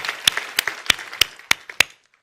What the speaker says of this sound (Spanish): Den un aplauso al Señor con todo su corazón